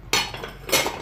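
Two short ceramic clinks and knocks as a plate is lifted out of a box while being unpacked, close and fairly loud, the second contact following about half a second after the first.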